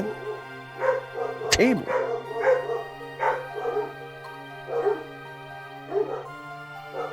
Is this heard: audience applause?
no